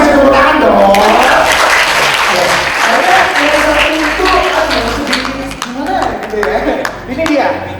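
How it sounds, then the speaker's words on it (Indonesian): An audience at a product soft-launch event in Indonesia applauds loudly and steadily, with crowd clapping that runs throughout under talk and background music. "Kasih tepuk tangan."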